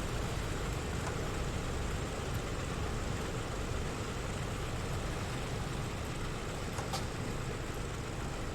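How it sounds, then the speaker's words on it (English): Douglas DC-6 piston engines drone steadily in Microsoft Flight Simulator 2020, a constant loud low rumble that holds throughout without clearly winding down. "The artificial flight engineer start the process of shutting off all the engines."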